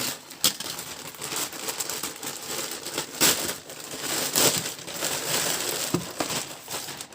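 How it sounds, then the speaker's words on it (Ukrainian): Plastic parcel bag from AliExpress crinkling and rustling close by while being unpacked, with irregular crackly bursts and handling noise throughout and no talk. "Сьогодні розглянемо чергову посилку з AliExpress. Приступимо до розпакування."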